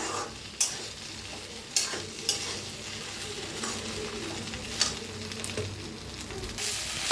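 Okra roasting in a pan for garlic masala bhendi while being stirred, with a steady sizzle and occasional sharp scrapes of the spoon against the pan.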